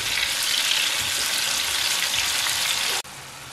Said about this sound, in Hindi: इसको हम ऑयल में अच्छी तरह फ्राई कर लेते हैं